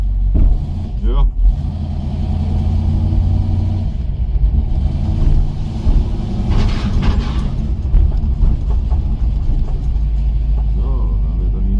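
A car engine rumbles and revs as the vehicle pulls away, with people talking over the steady motor noise throughout.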